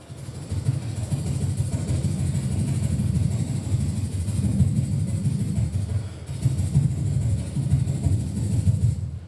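A beatboxer imitates a helicopter with a steady, low, throbbing rumble that runs without a break for about nine seconds, close and fairly loud.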